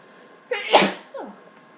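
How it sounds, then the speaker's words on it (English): A single loud sneeze close to the microphone, a sharp burst followed by a softer trailing exhale. "Sorry if I sneeze."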